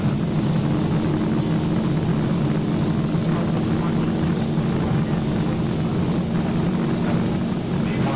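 Airliner engines spool at takeoff thrust in the X-Plane 12 flight simulator on an Aeroitalia departure from Palermo, a steady loud broadband roar with a low droning hum that holds evenly throughout.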